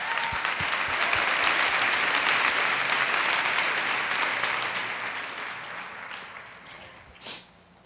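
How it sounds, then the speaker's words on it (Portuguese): A church congregation gives a long, loud round of applause, dense clapping that swells, holds steady, then gradually fades, ending with a brief isolated sound. "Dá uma salva de palmas ao Senhor."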